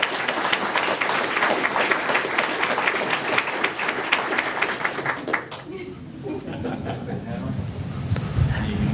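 Family and guests at a career signing ceremony applaud Edgar's signing with McGee Brothers, brisk clapping for about five seconds that then stops, leaving quieter room murmur and chatter.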